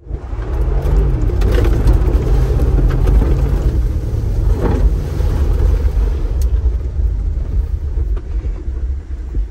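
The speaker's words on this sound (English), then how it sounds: "I'm gonna do a quick launch just so you guys can hear the engine." The V8 of a 2024 Mercedes G550 truck launches from a stop, giving a loud, deep engine rumble that builds and holds close up before easing off slightly.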